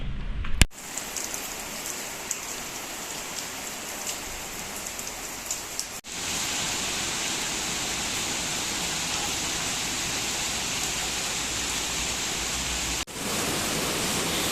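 Steady, dense rain in Guadeloupe patters down continuously, a broad hiss of drops hitting surfaces, with a couple of brief cuts in the recording.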